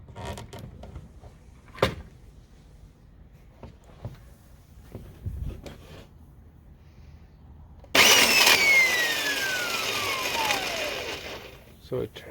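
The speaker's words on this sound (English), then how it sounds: "So it turned on there, but it was kind of a weird grinding noise there." An old belt sander with damaged gears switches on, running loud and harsh with a grinding whine that slowly drops in pitch as it winds down, after a stretch of quiet handling noises and clicks.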